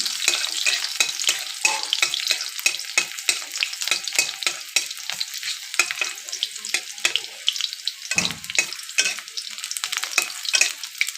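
Dried red chilies and garlic crackle and sizzle loudly in hot oil, a dense continuous frying hiss broken by quick scraping stirs and one deeper clunk midway, with no one talking.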